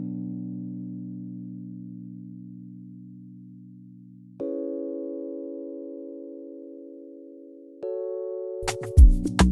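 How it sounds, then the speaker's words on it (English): An electric piano preset in the Lounge Lizard plugin plays three sustained chords, each struck and left to fade, then a few sharp percussive hits come in at the end; quiet and alone. "this is just a piano and electric piano"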